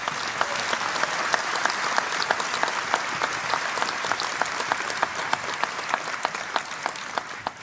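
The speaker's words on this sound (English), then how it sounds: "I think that deserves a round of applause." A hall full of people applauds an honorary graduate at a University of Derby graduation ceremony, a steady, even patter of many hands that is fairly soft and continues without talk.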